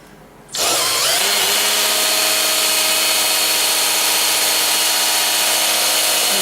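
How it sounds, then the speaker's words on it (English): Cordless drill spinning up abruptly and holding a loud, steady whine while priming oil pressure on a 1978 Camaro 350 engine, continuous and close. "this is with a cordless drill."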